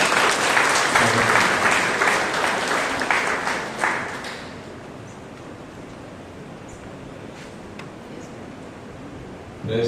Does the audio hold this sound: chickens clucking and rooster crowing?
no